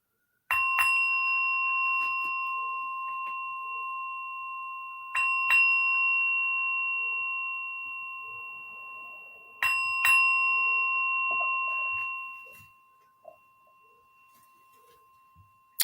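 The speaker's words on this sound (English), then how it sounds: "So I will ring the bell to bring this service to its sacred moments." A meditation bell at a New Thought Sunday service rings three times, several seconds apart, each strike clear and bright with a long, slowly fading sustain before silence.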